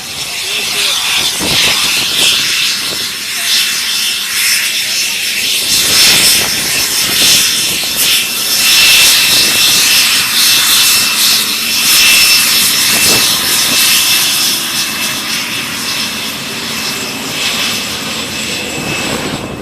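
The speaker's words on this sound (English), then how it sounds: "Now heading down the taxiway, we'll see the A4, the Schooler, the A4 Skyhawk." An A-4 Skyhawk jet taxiing at the 2013 Tico Warbird Airshow gives a loud, steady roar with a high whine, rumbling continuously for about twenty seconds.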